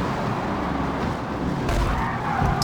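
Race car braking hard with tires skidding in the racing game Forza, a steady, loud rush of tire and engine noise through a heavy braking zone into the first turn.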